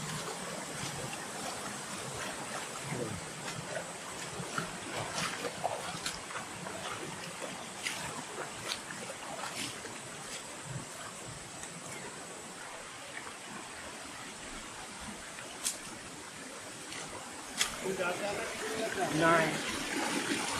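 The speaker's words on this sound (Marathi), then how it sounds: "हाच तो जाऊन खाली धबधबा तयार होतो, म्हणजे इथून पाणी एवढं जोरात आहे." Strongly flowing water rushing down toward a waterfall on a hill-fort trail, a steady broadband roar filling the whole clip at moderate level, with occasional brief knocks.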